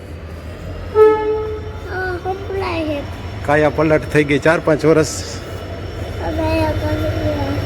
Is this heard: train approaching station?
yes